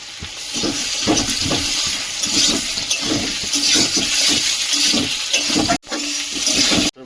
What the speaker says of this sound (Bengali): এধারে আলু আর পুঁই শাক ভাজা ভাজা হয়ে গেছে